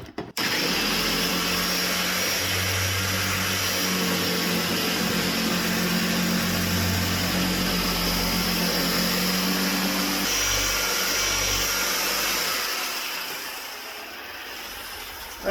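A car paint polisher buffing bodywork with pads soaked in polishing compound, running as a steady droning whir for most of the clip before winding down; close, continuous and alone.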